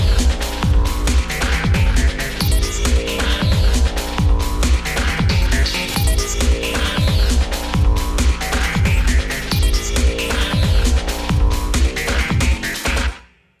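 A synth track with layered delays, made of bright, rapid plucked synth notes over a steady punchy beat that runs continuously at full level before cutting off abruptly at the end.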